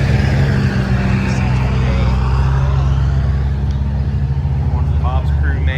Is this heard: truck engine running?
yes